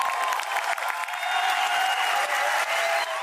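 A theater audience applauding after a play by the Peruvian company Teatro de la Plaza, a dense, even patter of many clapping hands that holds without a break.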